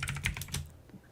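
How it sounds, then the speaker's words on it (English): A brief run of sharp clacking keystrokes on a mechanical computer keyboard sounds close up, then trails off into near silence. "bro's typing. I hear him clacking."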